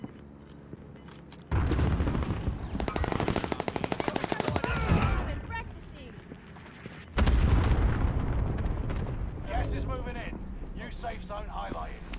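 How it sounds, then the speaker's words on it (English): A frag grenade thrown and exploding amid gunfire in a video game set in Caldera: rapid automatic gunfire bursts and heavy booms, loud and close, with players talking throughout. "Sending a frag out."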